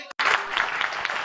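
Audience of schoolgirls at a school quiz competition bursts into brief, dense applause, many hands clapping close by after a short silence.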